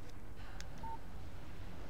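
A phone text message notification in the video game Alan Wake sounds as one short, faint electronic beep over a low, steady background hum.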